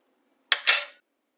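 A metal utensil clinks twice against a soup pot, ending with a lid set on top, two quick bright clatters in an otherwise quiet kitchen.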